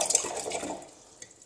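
Paintbrush rinsed in a water jar during gouache painting, a short burst of close splashing and swishing that fades quickly into quiet, with no voices.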